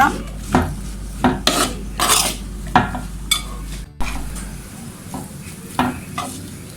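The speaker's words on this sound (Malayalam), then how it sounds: "വീണ്ടും നന്നായിട്ടൊന്ന് ഇളക്കി മിക്സ് ചെയ്യുക" Spoon scraping and stirring coriander and chilli powder in a hot pan, a series of short scrapes and clinks over a faint sizzle, close and fairly loud, with no voices.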